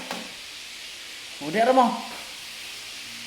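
Food frying in a home kitchen gives a steady, soft sizzling hiss throughout, while a nearby voice speaks briefly in the middle.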